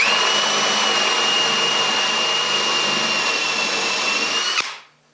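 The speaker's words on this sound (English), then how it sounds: "Now I can drill a 1/2-inch hole with a Forstner bit." A power drill with a Forstner bit boring a 1/2-inch hole whirs at a steady high pitch for several seconds, then stops abruptly and spins down into silence.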